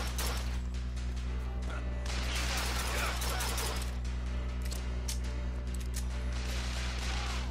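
Enemy gunfire in Bioshock Infinite, sustained rattling bursts of shots over a steady low game hum, loud and continuous throughout, with people talking over the fighting.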